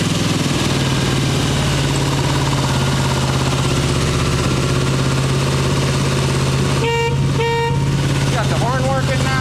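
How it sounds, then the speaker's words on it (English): A 1989 Harley-Davidson Ultra Classic Tour Glide rumbles at a steady close idle, then its horn gives two short, bright beeps near the end, with someone speaking over the engine. "Got the horn working now."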